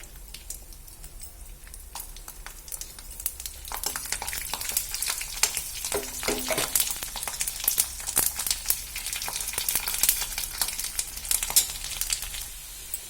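Garlic cloves fry in hot oil with cumin, mustard seeds and curry leaves, giving a steady, close crackling sizzle with sharp pops and spits that grows busier partway through.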